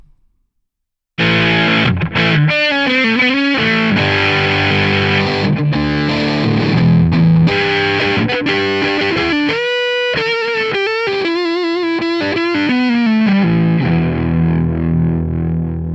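Music through a Placid Audio Copperphone microphone, with a distorted, narrow, lo-fi vintage coloring, gritty and midrange-heavy, playing continuously after a brief silent start and tapering off at the end.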